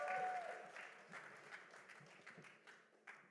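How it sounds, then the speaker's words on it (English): Applause from a conference audience in Dubai, a soft continuous patter of many hands that fades gradually over a few seconds, distant and fairly quiet. "Big round of applause, everyone."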